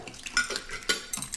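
A spoon scrapes and clinks against a mixing bowl of broth in a few quick stirring strokes, close and fairly quiet.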